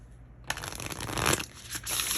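Tarot cards shuffle close by in a quick, dense riffle of papery flutters, rising and falling in short bursts, alone without talk.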